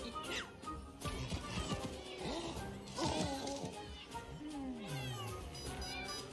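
Cartoon cats meow repeatedly in the Exploding Kittens mobile game trailer at the E3 2019 Xbox showcase, with several distinct near meows, one long drawn-out yowl, and scattered crashes and effects beneath.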